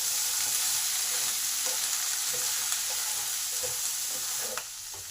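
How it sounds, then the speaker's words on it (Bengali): Onion greens and peas fry in a pan with brinjal and potato, a continuous close hiss of sizzling oil with faint stirring scrapes throughout. "আর মটরশুঁটিটাও দিয়ে দিলাম। এইগুলো সব ভালোভাবে ভেজে নেব।"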